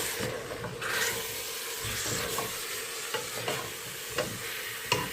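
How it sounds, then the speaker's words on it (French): A spoon stirs thick chorba frik, an Algerian freekeh soup, simmering on medium heat in a pot, giving repeated scraping, bubbling strokes over a low steady cooking noise, with no one speaking. "je fais mijoter le tout à feu moyen environ 5 à 6 minutes. C'est parti au fourneau. Voilà, on mélange bien."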